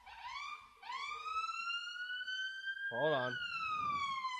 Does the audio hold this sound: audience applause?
no